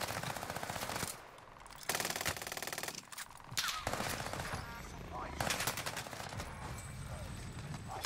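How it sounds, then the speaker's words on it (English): Rapid automatic gunfire in Call of Duty Warzone comes in loud, dense bursts separated by brief pauses, close up in the game's mix. "Okay, getting shot from behind."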